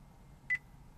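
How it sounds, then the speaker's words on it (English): A single short electronic beep from a 2013 Honda Accord's navigation voice prompt, sharp and clear over a faint background hum, lasting about a tenth of a second. "After the beep, say the city name."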